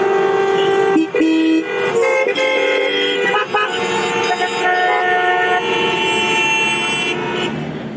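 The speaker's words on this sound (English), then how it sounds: "Here, people honk even when the signal is red." Car and truck horns honk constantly at a red signal in dense Mumbai city traffic, several overlapping loud toots and long blasts layered over the rumble of engines, with no pause for the whole stretch.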